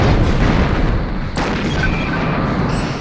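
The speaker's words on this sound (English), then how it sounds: "I am detecting nearby explosions." Explosions booming around an outpost in Star Trek Bridge Commander, a continuous loud rumbling barrage with a sharp burst near the middle, no talk.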